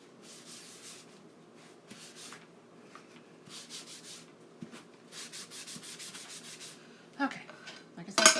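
Wax being rubbed onto Valentine craft tags: close, papery scrubbing strokes come in short bursts with gaps between them, and a sharper knock and handling noise arrive near the end.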